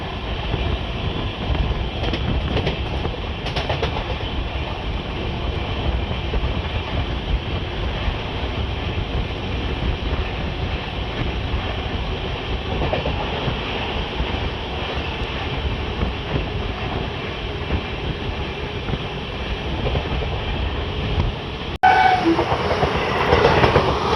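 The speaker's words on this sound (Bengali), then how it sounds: "ট্রেন আমাদের ফাটিয়ে টানছে" The Dhauli Express runs on the rails through Odisha, a loud continuous rumble with rattling carriages and clattering wheels that stays steady for the whole stretch and brightens briefly near the end.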